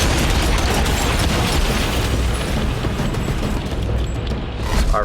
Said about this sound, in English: we'll add some explosions to some of these cars